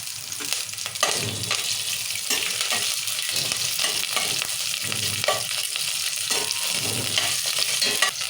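Cumin, mustard seeds, fenugreek and chillies sizzle and crackle loudly in hot oil, a dense, unbroken frying hiss with frequent stirring scrapes, heard close up with no voices.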